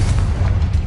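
Booming blast from the Confringo fire spell in Hogwarts Legacy, a loud, dense rumble with heavy low end filling the full second, close and sustained without pause.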